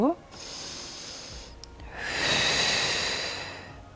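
Breathing during a slow Pilates workout, a long exhale-like rush of air followed by a louder, broader breath swelling and fading over several seconds, close and unaccompanied by other sounds.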